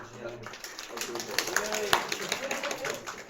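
A live audience gives a round of applause, a dense patter of claps building to a sharp peak near the middle and holding steady under a murmur of voices.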